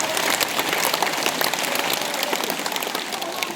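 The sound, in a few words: students clapping hands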